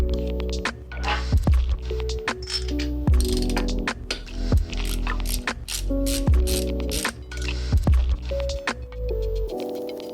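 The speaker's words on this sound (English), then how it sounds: "the first thing we're going to do is pull the spark plugs" A ratchet wrench works the spark plugs out of a motorcycle engine, with busy rapid clicking bursts and metallic rattles going on nearly the whole time, close and loud, with no talking.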